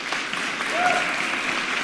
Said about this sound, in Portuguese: Agora é uma salva de palmas, tanta gente aprendendo isso.